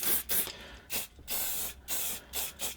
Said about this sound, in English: So some silicone spray here, and we'll just put some on the threaded rod there